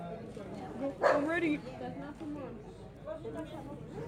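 A dog gives one loud, close bark-like yelp followed by softer whimpering noises, while people talk nearby.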